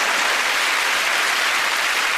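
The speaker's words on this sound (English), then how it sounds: "And this round of applause" A studio audience at a comedy quiz show bursts into dense, even applause that fills the room without a break, with no voices rising above it.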